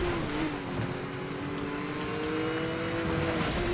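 Car engine accelerating in Need for Speed: Most Wanted (2012), a steady, rising engine tone under continuous road noise that holds for a few seconds with no talk.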